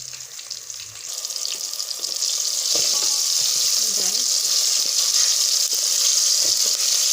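Garden eggs fry in a pan with a steady, loud hiss of sizzling oil that swells after the first couple of seconds and holds, with a few faint clicks underneath and no talking.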